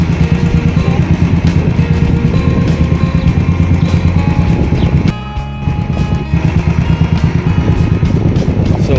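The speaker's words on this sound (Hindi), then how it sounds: "गुजर रही है मेरी बाइक रानीखेत से सीधा अल्मोड़े की तरफ।" A motorbike rides on the road from Ranikhet toward Almora in Uttarakhand, its engine giving a loud, steady, rhythmic drone with a brief dip midway, close and continuous.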